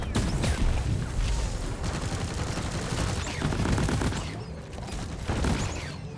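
Airstrike explosions and rapid gunfire roar continuously in the video game Deep Rock Galactic, a dense, loud barrage of booms and automatic shots with no pause.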